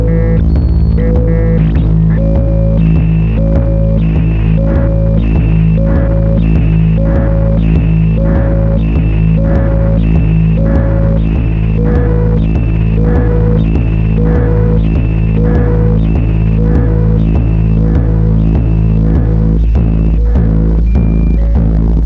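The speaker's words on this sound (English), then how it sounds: "I love the idea of a rhythmic noise box." An experimental mini modular noise synth drones steadily with a loud, throbbing hum and a rhythmic pulsing pattern repeating throughout, with no voices.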